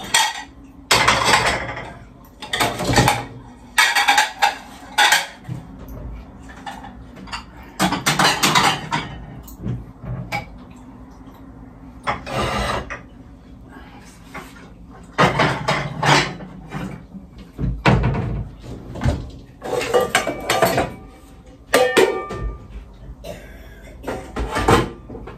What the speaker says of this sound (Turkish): Namazdan sonra bulaşıkları toparlayacaktım